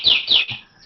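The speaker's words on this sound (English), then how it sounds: "it will open and close its beak, and this one is chirping" A toy robot bird gives three quick, bright electronic chirps in under a second, the last one softer, sounding close and clear.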